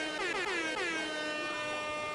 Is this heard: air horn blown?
yes